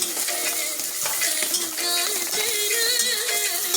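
Onion, ginger, green chilli and black cumin tempering stirred in a pan for wheat rava upma, a loud close sizzle with steady spoon scraping and a whining tonal hum running through, no talking.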